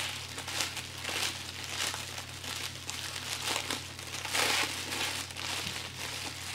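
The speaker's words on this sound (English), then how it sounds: "pull your top layer of cellophane apart." Layers of cellophane are pulled apart while a gift basket is wrapped, producing continuous close, faint crinkling and rustling with a few sharper crackles and a low steady hum underneath.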